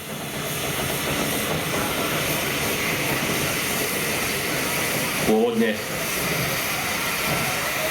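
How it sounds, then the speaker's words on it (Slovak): An oil-fired DR-52 class steam locomotive, renumbered 555-3008, fills the clip with a loud, steady hiss of steam and a brief rumbling swell midway, with no voices. "Pôvodne ide o radu DR-52, až Československu prečíslovanú na Rušeň 555-3008."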